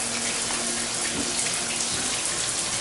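A bathroom shower sprays water steadily into a draining basin, a dense, even hiss running loud and close without pause or talk.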